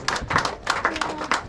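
Brief, light applause from wedding party guests for violinist Karina Day, a few clusters of claps rising and falling over a second and a half, with soft murmuring voices underneath.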